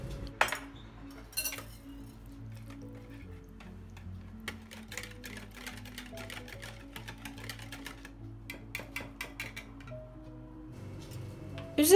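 A spoon clinks and scrapes around a bowl while yogurt, garlic, olive oil and salt are stirred together, light repeated taps and ticks over about twelve seconds, close and fairly quiet.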